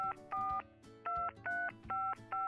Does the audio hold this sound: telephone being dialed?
yes